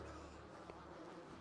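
A brief, low drone of buzzing bees, faint and steady, with no other sounds, from the video game Dead Rising 3.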